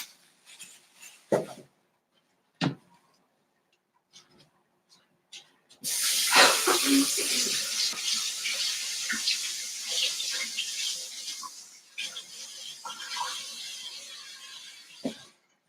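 Organic vegetables from the grocery store are rinsed under a running kitchen tap for bone broth, a steady broadband rush of water lasting about ten seconds, preceded by scattered handling clicks and knocks, with brief clatter after the flow stops.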